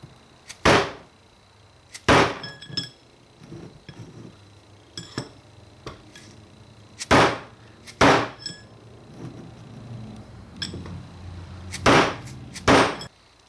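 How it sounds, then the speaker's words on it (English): A hammer strikes a tool driving out a bushing on a 42RH/A500 transmission set on blocks, with about a dozen loud, sharp metallic blows at uneven intervals, some in quick pairs, with quiet handling noise between. "I can't get as good of a hit on the bushing and it keeps slipping off"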